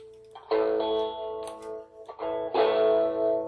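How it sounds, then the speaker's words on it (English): An electric guitar with humbucker pickups at neck and bridge, both selected, plays straight into an amp set with a little reverb: two ringing chords strummed alone, each sustaining and decaying with a short pause between. "here's the basic sound of the guitar,"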